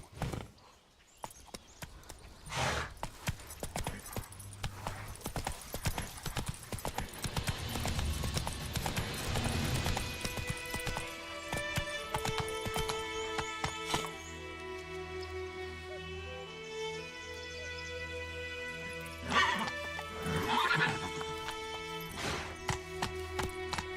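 Hoofbeats of a horse named Roach in The Witcher 3, a steady clip-clop that picks up into a run over a bed of game music, with no clear neigh standing out.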